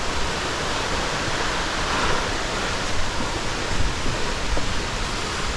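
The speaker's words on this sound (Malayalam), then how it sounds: "നമ്മൾ നമ്മുടെ വെള്ളച്ചാട്ടത്തിലെത്തിയിരിക്കുകയാണ് കേട്ടോ" A waterfall roars in a constant dense wash of noise, loud and close, with no voices and no breaks.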